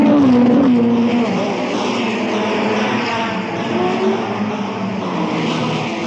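Racing cars pull away from the start of the 1962 Monaco Grand Prix, several engines roaring loudly together and then easing into a steady, slightly distant drone.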